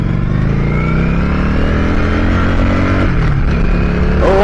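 A Yamaha Virago 535 V-twin motorcycle engine revs loudly and close up after sitting through a winter, with a rough throbbing idle that rises in pitch, drops briefly, then climbs again, and no voices.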